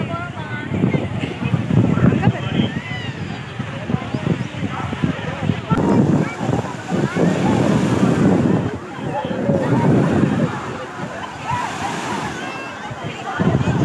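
Sea waves at Agni Theertham beach in Rameswaram, a continuous washing surf with sloshing water and wind buffeting the microphone, loud and close, with voices talking over the waves.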